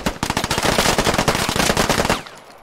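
Dense, rapid automatic gunfire from the Squad video game, a loud sustained burst of closely spaced shots lasting about two seconds before cutting off abruptly into quiet.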